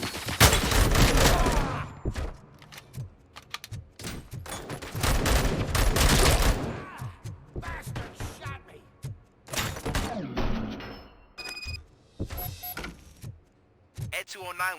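The ED-209 robot in RoboCop: Rogue City blasts out loud bursts of heavy gunfire in several volleys, broken by sharp clanks and thuds, with voices talking between the shots.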